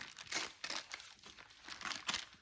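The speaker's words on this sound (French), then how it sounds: "je vais déchirer un petit bout" A small piece of paper is torn and crinkled by hand for a junk journal page, several short close rips and rustles in quick succession, quiet and alone.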